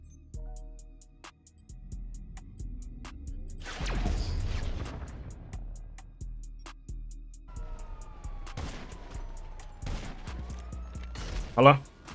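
Scattered gunshots in GTA V Online, sharp bursts and single cracks spread through the moment, with a siren-like wail and other game effects in the background.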